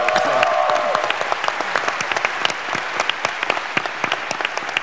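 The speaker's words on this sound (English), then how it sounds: "let's take a moment also just to give a round of applause to all the folks here" An audience at a White House summit on Asian Americans and Pacific Islanders claps in a round of applause, dense at first and then thinning into scattered individual claps, loud and close, with a voice briefly trailing off at the start.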